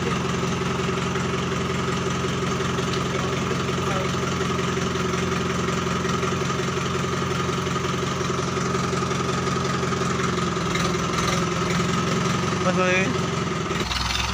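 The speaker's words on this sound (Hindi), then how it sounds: "ट्रैक्टर स्टार्ट हो चुका है" A Mahindra 415 XP Plus tractor engine idles steadily and loudly throughout, a low rumbling chug with a slight knock, and a voice speaks faintly over it.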